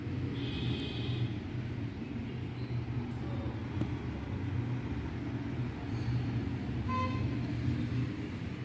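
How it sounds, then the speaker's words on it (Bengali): Road traffic outside a hotel in Bangalore, a steady roar of passing vehicles with a few short car horn toots, heard from nearby with no talk. "সামনে রাস্তা আছে।"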